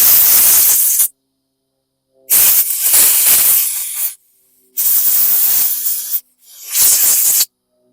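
Spray cleaner blasts into a 2016 Yard Machines lawn mower carburetor in four loud, close hissing bursts, each about one to two seconds long, separated by short silences.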